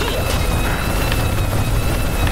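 Steady whirring buzz of a helicopter in the Worms video game, a continuous droning hum held at constant loudness for a couple of seconds.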